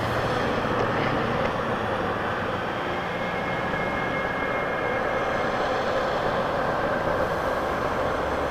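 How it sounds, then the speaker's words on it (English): An Air Canada Boeing 777-200 airliner at Toronto Pearson Airport gives a continuous loud, broad jet roar that holds steady throughout, heard from outdoors with no voices. "And it is a 777-200 to Delhi, the Indian plane."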